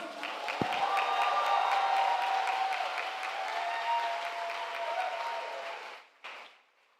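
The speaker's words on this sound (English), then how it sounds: "please a big round of applause for the government whip" Audience applause at a world university debating championship in Panama City, given for the government whip, a full even wash of clapping with faint cheering that fades out toward the end.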